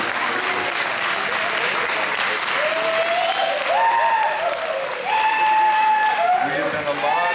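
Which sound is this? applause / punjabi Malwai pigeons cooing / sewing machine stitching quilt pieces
applause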